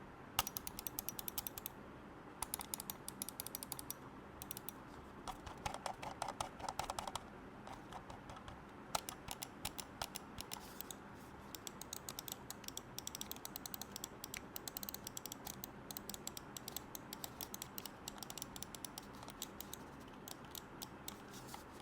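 Dense rapid clicking from the notched scroll wheel of an EWEADN S9 Ultra gaming mouse, close and quiet, running in quick bursts with brief pauses for about twenty seconds.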